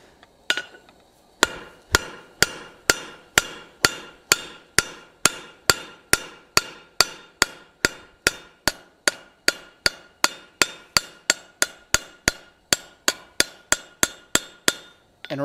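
Steel rivet hammered on an anvil while forging a spatula with a traditional handle: a long steady run of about forty sharp ringing metallic strikes, evenly spaced and close, with no talk.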